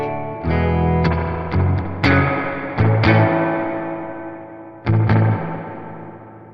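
An electric guitar played through a Fender Tone Master Deluxe Reverb amp rings out in a few struck chords and notes, each tail washing out in lush reverb, with no talking.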